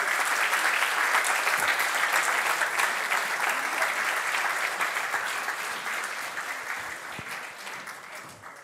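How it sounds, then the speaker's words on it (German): A studio audience at a German comedy sports show claps loudly and continuously, steady and dense, slowly tapering off toward the end. "Einmal einen großen Applaus"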